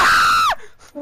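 A single loud, close scream holds a high sustained pitch for about half a second, then drops off sharply, followed by a couple of brief faint vocal sounds.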